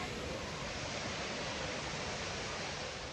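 A waterfall pouring out of a tunnel at Blanchard Springs, Arkansas, a steady broadband rushing hiss of falling water, even and unbroken, heard alone at a modest level.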